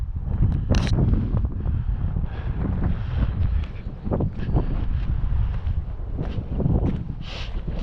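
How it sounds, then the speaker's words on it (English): Steady wind roars and buffets across the whole stretch outdoors in East Lothian, a broad continuous rush with a few brief gusty swells, no voices. "So yes, it's chilly and it's windy at the moment"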